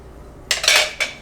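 A spoon stirs kombucha sweet tea in a container, giving two short bursts of clinking, scraping sound up close after a quiet start.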